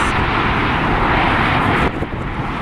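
A Cebu Pacific heavy airliner lands on runway 16 left, giving a loud, steady broadband engine roar that holds near and constant, then eases slightly toward the end.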